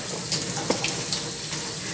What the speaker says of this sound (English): I just use the water out of my tap.